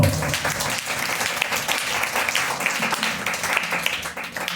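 A church congregation at a Sunday worship service claps loudly together, a dense, sustained burst of applause close to the microphone with faint voices mixed in.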